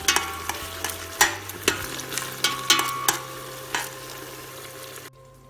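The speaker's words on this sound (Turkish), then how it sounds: "Şimdi onlarla da güzelce Etimizi kavuralım." Meat fries in a pan with tomato paste and pepper paste, giving a steady close sizzle broken by repeated scraping stirs, with no voices, until it stops abruptly at the end.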